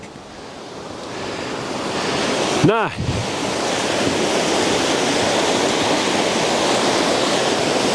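Tsahkaljärvi waterfall in Lapland rushes in a steady, loud, broadband roar throughout, with a voice briefly speaking over it partway through.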